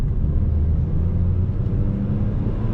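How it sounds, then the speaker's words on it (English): Proton X50 SUV engine in normal drive mode pulling under moderate throttle, a steady low rumble and drone heard from inside the cabin, continuous and fairly loud with no talk. "I'm going to leave it in normal mode, the standard mode first, and just give it a bit of power."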